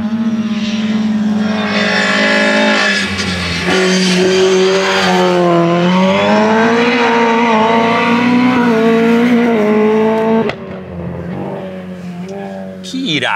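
A race car laps a circuit, its engine revving loud and steady and the pitch sweeping up and down through gear changes, with a sharp drop near the end as it lifts off.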